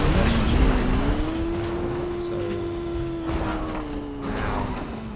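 Engine drone of a car in Fortnite, a steady mid-pitched hum that rises slightly and holds, with a faint crackle of game noise over it and no talk.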